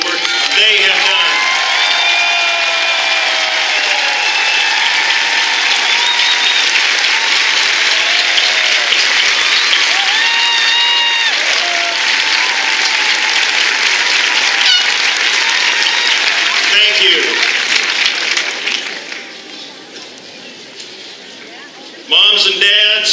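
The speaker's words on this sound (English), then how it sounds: "would you please, audience members, give them a huge round of applause for the work they have done" A high school graduation audience in a large venue applauds its educators with sustained clapping and scattered cheers and whistles. The sound stays loud for about eighteen seconds, then dies away as a brief swell returns at the end.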